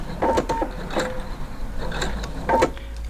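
A sewing machine stitches a seam around the corner of a skirt pocket. Short bursts of mechanical whirring and clicking stop and start against a steady low hum, with a brief pause partway through.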